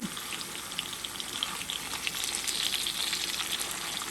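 Fish frying in an iron pan, a steady bright sizzle of hot oil holding close and even throughout with no talking.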